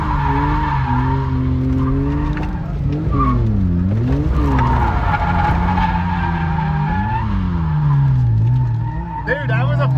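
Drift car sliding at a drift event, tires squealing and skidding with sweeping, pitch-bending engine revs that rise and fall continuously, loud and close, with voices talking over it.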